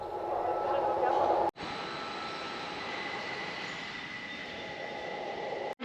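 A FlixTrain on the lower level of Berlin Hauptbahnhof makes a steady rumbling drone under a station hall's echo, with a thin whine on top and a brief cut partway through.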